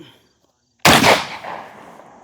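A single loud, close shotgun blast from a JTS M12PT-1 fired into dirt outdoors, a sharp crack that rolls off into a decaying echo.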